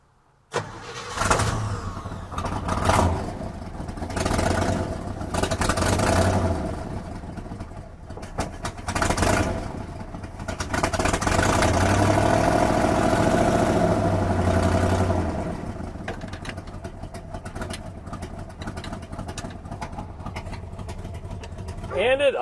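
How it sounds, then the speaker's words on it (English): A 1965 Chevy Bel Air V8 cranks several times in short bursts, then catches and settles into a steady idle before being shut off, with someone talking over parts of it. "And it idles. I shut it off."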